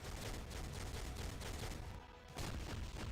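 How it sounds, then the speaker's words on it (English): The explosive bombardment skill in Marvel Future Fight unleashes a rapid, dense run of booming blasts and gunfire-like cracks, briefly dipping before a final burst of explosions, faint in level and with no voices. "This is the explosive bombardment skill."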